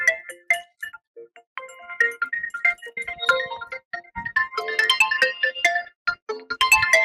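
A melodic phone ringtone plays loudly and clearly, a repeating tune of bright electronic notes, with no talking over it.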